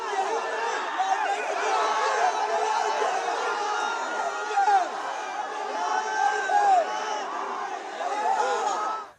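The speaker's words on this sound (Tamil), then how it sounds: "அவர் தெரிவித்த வாழ்த்துக்களை அவரது ரசிகர்கள் உற்சாகமாக ஆரவாரம் எழுப்பி கொண்டாடினர்" At Diwali, a crowd of Rajinikanth fans cheers and shouts enthusiastically, many voices mixing into a continuous, excited chatter with occasional louder whoops, heard from nearby.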